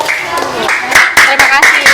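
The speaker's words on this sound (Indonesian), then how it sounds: "tepuk tangan untuk kelompok 3" Classroom applause from a group of pupils for a presenting group, a burst of quick claps rising over the second half alongside children's voices.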